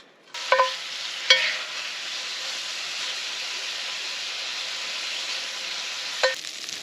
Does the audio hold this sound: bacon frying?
yes